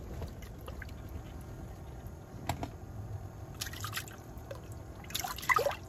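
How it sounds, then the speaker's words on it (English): Water splashes and trickles near the end as a perch is released back into a small inland lake during Michigan ice fishing, a brief close splash after quiet, faint background ambience. "So let's get this fish back in the water."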